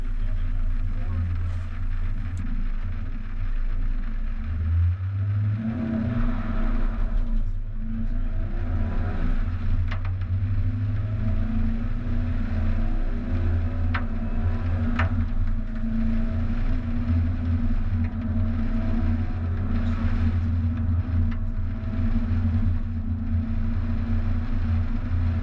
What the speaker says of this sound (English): we're going to give another 0 to 60 a go here